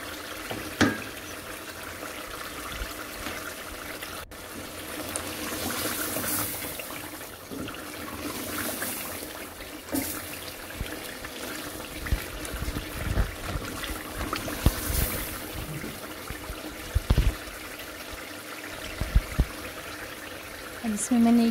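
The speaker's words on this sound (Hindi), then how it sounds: "इसमें मैंने 1 गिलास पानी डाल दिया है ताकि इसकी जो है अच्छे से ग्रेवी बन जाए।" Water goes into a pot of bottle gourd and beef curry, a faint trickling and pouring under ongoing cooking noise, with a person talking over it.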